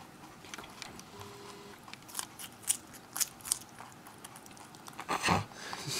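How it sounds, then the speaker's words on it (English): A pet rabbit chews a carrot, giving quick, crisp crunching bites in irregular bursts at close range over faint background hiss, with the loudest crunch near the end. "He's eating carrot that I got him earlier."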